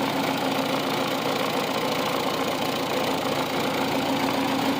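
A small engine idles smoothly after its carburetor has been cleaned. It gives a loud, close, even drone with a steady fast pulse and no talk over it.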